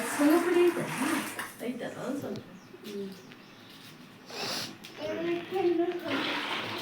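Water is poured out at home for a morning bath, heard as splashy bursts that come and go, under a child's and others' chatter with birds cooing nearby.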